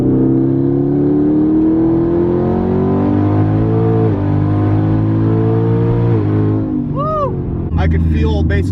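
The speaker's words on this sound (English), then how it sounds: "turbo spooling, it pulls even more, and then it shifted" A twin-turbo ZL1 car engine revving hard as it accelerates, rising steadily in pitch for several seconds with a whooshing turbo spooling whine, then a gear shift and chirps near the end.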